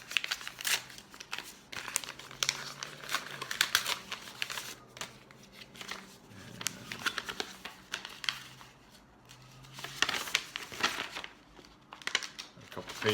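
Paper crinkling and rustling as a paper envelope is torn open and pages pulled out, soft close handling noises coming in scattered bursts, with a voice talking underneath.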